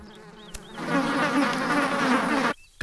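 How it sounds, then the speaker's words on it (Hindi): A swarm of bees buzzes loudly and steadily from a movie scene, the drone swelling after a brief quieter start and then cutting off abruptly near the end. "मधुमक्खियों ने हमारी तरफ उलटा ले लिया"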